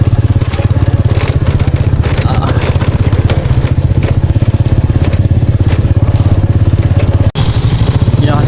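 A motorcycle rides along a path through a rural village in southern Laos, its engine chugging loud and close throughout with a steady low throb, while a person talks over it.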